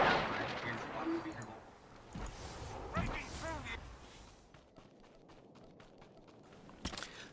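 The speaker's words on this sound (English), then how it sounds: "Pop back into cover, and I go back into shooting." Blaster fire from a Star Wars: The Old Republic PvP match on Novare Coast, with sharp shots bursting over a busy game mix and a few later isolated cracks, fairly quiet overall.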